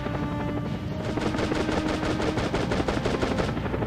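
Rapid automatic gunfire in the tactical shooter SOCOM US Navy SEALs, a steady burst of fast, evenly spaced shots that runs close and loud for nearly four seconds without pause.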